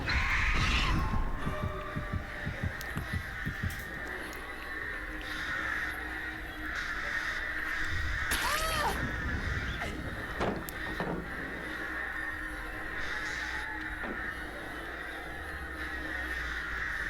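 Crows caw several times in the Dead by Daylight video game, harsh calls over a throbbing heartbeat sound and layered game effects, moderately loud throughout.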